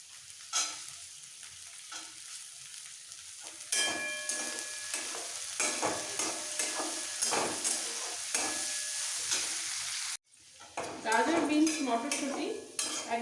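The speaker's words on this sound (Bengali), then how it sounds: "গাজর বিনস অনেকটাই সেদ্ধ হয়ে এসছে ভাজতে ভাজতে" Carrots, beans and peas sizzle in a wok while a utensil scrapes and clatters against the pan, stirring in uneven strokes; a brief pause, then louder frying resumes.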